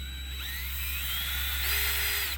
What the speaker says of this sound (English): You lean the drill down a little bit, about 30 degrees.